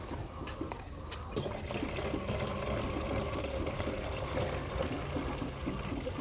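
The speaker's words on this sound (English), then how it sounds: "Then we mix from another container so that we have a properly diluted concoction." Diluted herbal medicine for hens is poured and mixed between containers, giving a steady, fairly quiet watery trickle and splash that runs unbroken with no talking.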